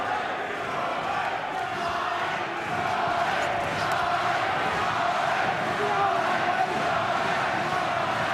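A packed arena crowd roars continuously during a British 160lb title boxing bout, a steady, distant wash of cheering and noise with no distinct voices standing out.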